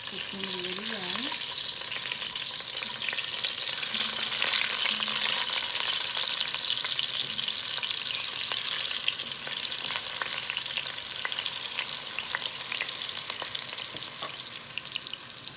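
Potatoes fry in a pan for biryani, giving a steady, bright crackling sizzle throughout, loud and close, with a few faint tonal sounds early on.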